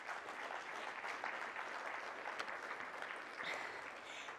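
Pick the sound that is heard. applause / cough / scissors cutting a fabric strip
applause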